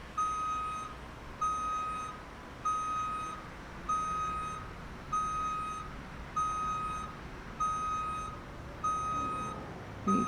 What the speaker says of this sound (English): Oh, an interesting reversing beeper. That's very loud.